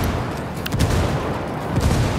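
Rapid gunfire rattles in a Ghost Recon Wildlands firefight, several sharp bursts over a dense, rumbling battle backdrop without speech.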